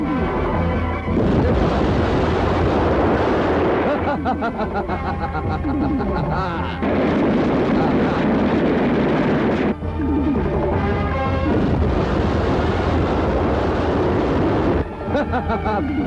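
Bombs explode and fire rages in a 1997 Hindi film scene, a dense, continuous roar of blasts and burning with crashes and booms throughout. Voices and soundtrack sounds are mixed in.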